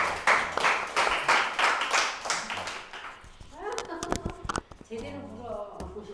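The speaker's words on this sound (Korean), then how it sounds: "우리 박사님 다시 한번 박수로." Audience clapping at a church seminar on aging, a loud rhythmic run of claps filling the first few seconds, then thinning out into scattered, sparser taps and some background chatter.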